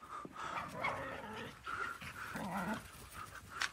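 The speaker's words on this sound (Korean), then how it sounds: "가라, 멍멍이들아. 달려라, 멍멍이들아." Dogs run loose on an outdoor sports field, panting steadily with occasional yips and scuffling, a continuous busy sound at moderate distance.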